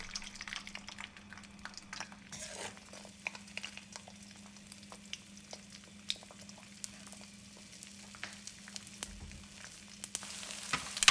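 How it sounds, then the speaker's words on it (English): Eggs frying and being scrambled in olive oil in a wok, giving a soft continuous sizzle with scattered small pops and light clicks, faint and steady throughout without any talking. "Now we're going to add the eggs and scramble until they are cooked all the way through."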